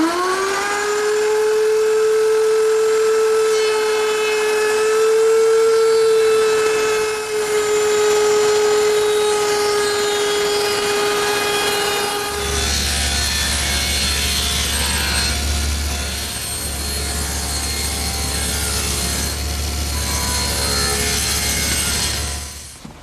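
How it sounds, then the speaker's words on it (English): A router table with a quarter-inch roundover bit mills the corners of a three-quarter-inch square wood strip held by featherboards, a loud steady motor whine under a rasping cutting noise that shifts to a rougher, lower-pitched tone about halfway through. "I've set up my router table with a 1/4-inch rounding over bit and a couple feather boards to hold the stock in place"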